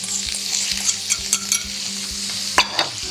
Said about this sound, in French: Et on va venir mettre les carottes dans la poêle et les échalotes.